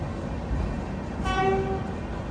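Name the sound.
train arriving at Yog Nagari Rishikesh railway station platform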